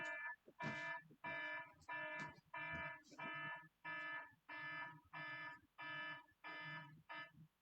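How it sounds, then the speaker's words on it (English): An alarm beeps in repeated pulses, about eleven evenly spaced harmonic tones over several seconds, steady and moderately loud in the background of a home where people were told to stay in during the coronavirus. "There was alarm that was making some noise in the background."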